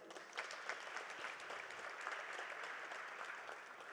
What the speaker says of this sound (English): ladies and gentlemen, may we give him a big round of applause